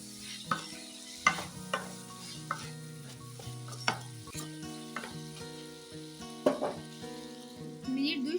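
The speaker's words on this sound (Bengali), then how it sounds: "মিনিট 2 সময় নিয়ে ভালো করে কষিয়ে নিচ্ছি।" Potatoes sautéing with salt and turmeric in a pan for a vegetarian aloo tarkari, with a steady close sizzle and repeated spatula stirring scrapes and knocks against the pan.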